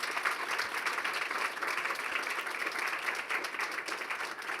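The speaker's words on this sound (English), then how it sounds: "join me in giving them a round of applause" Steady applause from an audience at a women's leadership event, a dense even wash of clapping that holds for several seconds without talk.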